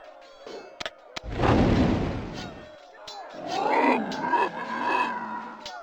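Artillery in Warhammer: Shadow of the Horned Rat fires on command with one heavy, roaring blast, loud and close, followed by a rumbling roar. A voice speaks before and after the shot.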